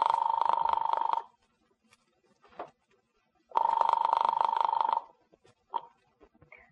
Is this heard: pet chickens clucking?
no